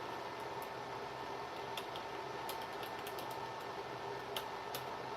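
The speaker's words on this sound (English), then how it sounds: "Let me type it in here." Soft clicks of typing on a computer keyboard in a quiet indoor room, a few scattered light keystrokes over a steady low hum, no voices.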